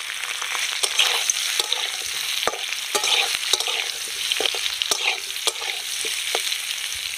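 Boiled potatoes go into hot white oil tempered with asafoetida for aloo dum, setting off a bright, continuous frying sizzle broken by frequent crackles and spatters, close and steady, with no voices.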